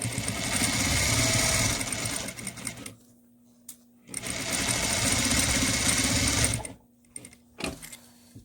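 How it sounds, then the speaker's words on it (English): A sewing machine stitches a quarter-inch seam on a fabric face mask in two steady whirring runs of a few seconds each, separated by short pauses with light handling clicks. "now we're going to stitch at 1/4 inch seam allowance"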